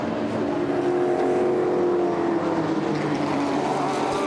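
Race cars, including a BMW, roar past during the Nürburgring 24-hour race, a dense continuous engine blare with shifting pitch as the field passes close by.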